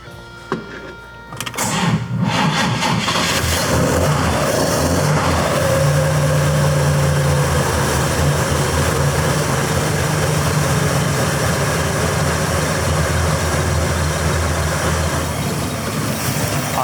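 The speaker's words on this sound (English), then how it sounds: "As I hear the car start for the first time" A 1954 Corvette engine cranks briefly, catches and settles into a steady, loud, rough idle with its timing not yet dialed in, running close by without any talk.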